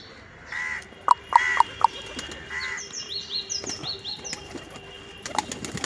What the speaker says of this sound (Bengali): এই যে লাল কবুতরটি হাতে চলে এসেছে